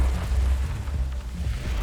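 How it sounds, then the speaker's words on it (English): A spaceship explosion in the arcade shooter Nova Drift gives a deep, rumbling boom that fills the whole clip with sustained low-end roar and a few scattered pops, loud and with no talk. "the explosion did a ton of damage"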